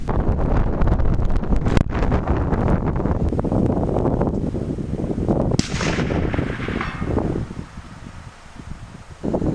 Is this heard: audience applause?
no